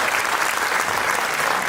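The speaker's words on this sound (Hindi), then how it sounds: "एक बार पुनः इनके लिए जरूर तालियां जरूर।" Audience applause at a Nautanki theatre performance of Shakespeare's Merchant of Venice, a dense, steady wash of many hands clapping close and loud throughout, with no voices over it.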